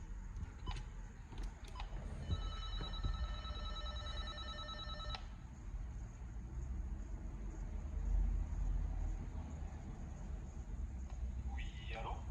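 A telephone rings in a home during a house move, one electronic ringing burst lasting a few seconds over background noise, with brief clicks before it.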